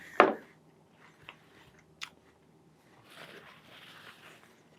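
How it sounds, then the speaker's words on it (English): A person bites into an apple: one loud, crisp, close bite, then a few fainter crunches of chewing and some soft rustling. "I'm gonna eat some more of this."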